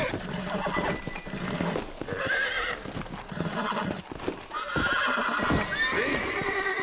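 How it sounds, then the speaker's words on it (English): A horse in the PC version of Red Dead Redemption whinnies loudly twice over a steady clip-clop of hooves, close and clear with little else around it. "Take the horse to the stable."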